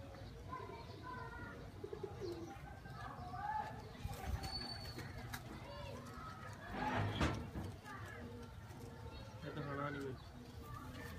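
Faisalabadi pigeons cooing in a bird keeper's loft, repeated soft low coos and calls close by, with someone talking over them and occasional clatter.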